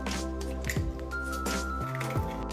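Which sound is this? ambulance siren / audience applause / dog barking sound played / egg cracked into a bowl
egg cracked into a bowl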